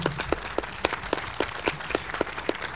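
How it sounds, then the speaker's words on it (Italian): Sparse audience applause at a business conference event, a handful of distinct hand claps in loose rhythm, fairly faint and close. "facciamo un applauso a Leonardo"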